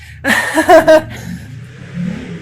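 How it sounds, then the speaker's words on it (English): A loud motorcycle engine revs in a few sharp bursts, then settles into a rumbling idle nearby. "My neighbor's got a motorcycle that's loud."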